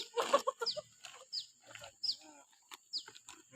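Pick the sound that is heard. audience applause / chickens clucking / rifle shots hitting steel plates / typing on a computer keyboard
chickens clucking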